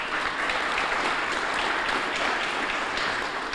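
An audience at a community foundation's fall grant ceremony gives a round of applause, a dense, even wash of clapping that holds steady throughout.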